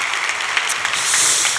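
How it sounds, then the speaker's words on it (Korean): Church congregation applauding the youth choir after their praise singing, a continuous full patter of many clapping hands, steady and moderately loud. "우리 청년들 위해서 우리 박수 한번 합시다."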